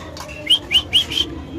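A pigeon at a pigeon market calls close by in four short, bright repeated notes at an even pace, standing out over a low background hum.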